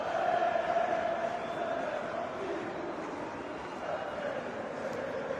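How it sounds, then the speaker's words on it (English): A football crowd at a Netherlands vs. Japan World Cup match lets out a broad, sustained groan that swells and then eases off, heard from a distance. "the crowd groans like they've seen that movie before"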